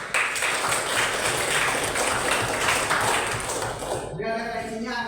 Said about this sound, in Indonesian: Jadi tepuk tangan dulu kita semua.